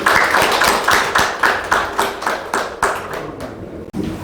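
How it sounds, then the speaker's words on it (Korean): An audience at a Buddhist festival book-talk event claps in a steady, even rhythm to welcome a lecturer. The claps are fairly close and loud, run for several seconds with no voices, and end abruptly. "박수로 맞이해주시겠어요?"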